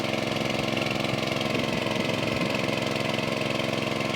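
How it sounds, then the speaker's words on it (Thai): A small engine driving a three-inch water pump idles with only a slight touch of throttle. It gives a close, loud, steady chugging drone that stays even for the whole stretch, with no talking. "ไม่ค่อยได้เร่งเครื่องนะครับ เร่งนิดเดียวเร่งนิดหนึ่ง"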